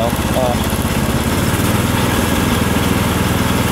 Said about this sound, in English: tractor seems to be running pretty good.